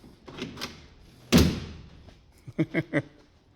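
An old Dodge car door closes with one loud, solid thud, preceded by faint voices and followed by a few rapid knocking clunks.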